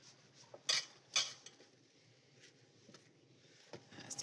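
Halved eggplant tossed with salt and oil in a dish: faint scattered clinks and light clatter, a couple of sharper knocks early on, with soft handling sounds between them.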